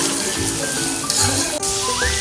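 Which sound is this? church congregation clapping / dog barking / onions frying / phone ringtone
onions frying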